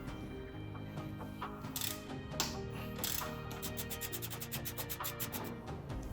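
Ratchet wrench backing out 10mm collar bolts on a Subaru BRZ engine bay during an oil catch can install, a steady run of close mechanical clicking and gear ratcheting with metallic rubbing, rapid repeated clicks toward the end.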